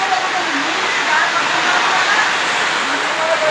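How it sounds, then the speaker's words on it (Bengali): Heavy monsoon downpour at a market in Ghorisar, Naria upazila, Shariatpur, a steady dense roar of rain that holds at an even loudness throughout, with faint voices in the background. "অল্প সময়ে বৃষ্টির পানি কিন্তু জমে গেছে এবং খুব গতিতে ছুটছে"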